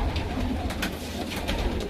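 Racing pigeons kept in a loft make soft, repeated throaty coos at close range over a steady low background hum, with no one speaking.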